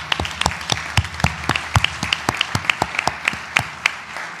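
Scattered applause at an annual meeting, a small audience producing sparse, distinct individual claps rather than a dense roar, fairly close and irregular throughout.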